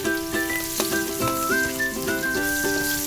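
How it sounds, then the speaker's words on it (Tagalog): Garlic sautéing in a pan for chop suey, a steady sizzle and crackle of frying running under background music with sustained tones. "Gisa tayo ng bawang."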